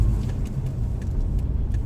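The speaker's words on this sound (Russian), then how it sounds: "Давно мы на машине не катались по городу." A car drives through the town of Anadyr in Chukotka in February, with a steady low rumble of engine and tyres heard from inside, continuous and moderately loud with faint high clicks and no talk.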